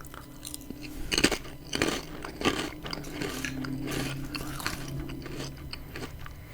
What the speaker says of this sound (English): They got a decent crunch.